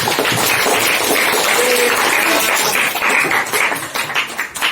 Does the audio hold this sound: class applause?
yes